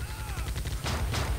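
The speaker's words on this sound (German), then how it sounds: "Ich will jemanden erschießen, schieß mit dem M60, 2 Schuss." Rapid gunfire from an M60 and other guns rattles in a first-person shooter, a dense run of quick shots with a louder burst near the end, close and loud.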